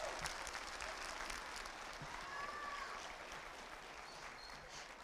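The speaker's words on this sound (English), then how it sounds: "Let's preemptively give them a round of applause because they're already doing great" Audience applause at a beginning band school concert, steady dense clapping filling the hall at moderate level throughout, with faint murmurs mixed in.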